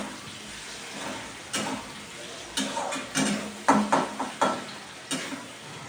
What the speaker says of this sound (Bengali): পরোটার সাথে খাওয়ার জন্য আলু ভাজা করে নিচ্ছি।